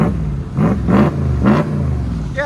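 A 2024 Ram 2500 with the 6.4L Hemi V8 and Borla ATAK exhaust, revved twice in quick succession, each blip rising to a deep, raspy bark before settling back to a rumbling idle, loud and close.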